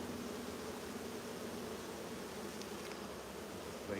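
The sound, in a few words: buzzing honey bees at a hive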